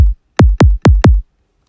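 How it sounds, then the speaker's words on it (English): A punchy drum and bass kick drum sample struck alone four times in an even four-on-the-floor rhythm after one opening hit, each with a sharp transient and a deep, quickly decaying boom, close and loud. "the kick on its own sounds like this"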